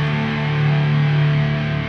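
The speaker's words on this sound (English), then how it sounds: "This is the first chord" A single distorted electric guitar chord rings out loud and sustained, played alone with no voices.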